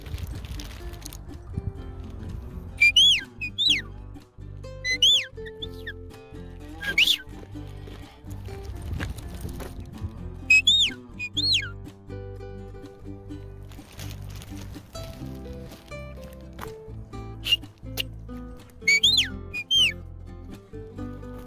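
Short, sharp rising whistles repeated in bursts as a dog command on a homestead, over a low rumbling background, with a few people talking in between.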